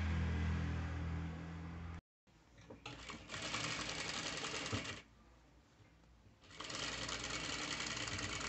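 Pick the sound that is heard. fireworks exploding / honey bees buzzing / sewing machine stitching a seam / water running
sewing machine stitching a seam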